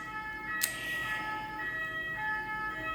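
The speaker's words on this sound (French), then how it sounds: "l'ambulance elle m'a cassé les oreilles" An ambulance siren wails outside, a steady moderate tone behind room noise with a short sharp click partway through.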